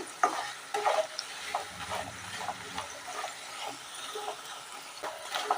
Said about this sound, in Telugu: ఈ బంగాళదుంప ముక్కలు అనేవి ఫ్రై అయిపోయాయండి